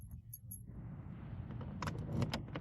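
Keys jangle in a few bright metallic clusters toward the end, over a steady low rumble like a car, during a search for the right keys to a door in an investment property.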